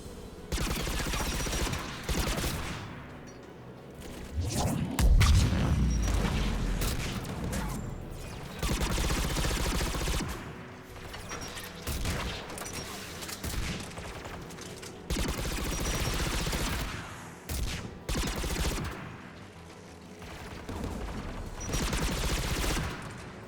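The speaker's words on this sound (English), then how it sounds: "the anti-aircraft guns" Anti-aircraft guns in Mass Effect Legendary Edition pound away in sustained, dense volleys of booming fire with short lulls, loud and continuous over a rumbling combat background.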